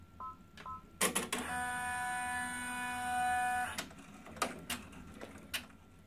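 An in-the-hoop embroidery machine runs a bean stitch to secure lining and zipper pieces for a bag, giving one sustained whirring, tonal run of stitching between short mechanical clicks and clatters.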